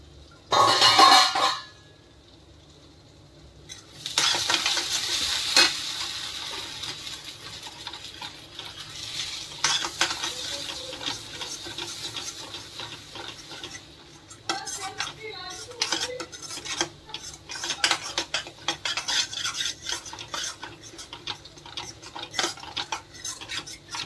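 Masala for chole and naan roasting in a pan while a spoon stirs and scrapes it, with metallic clinks against the pan and a faint sizzle, close and steady throughout, with no one speaking.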